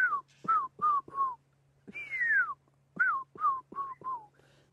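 A person whistles an imitation of a fish eagle call: a quick burst of four descending notes, a longer sliding whistle, then four more falling notes, clear and close over a faint steady hum.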